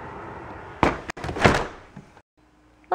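A couple of solid thuds as a car door swings and bangs shut nearby in the rain, followed by quiet.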